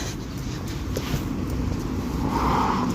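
A car drives along a street in Ireland. It makes a steady engine and tyre rumble that swells a little as it passes close by, with no talking.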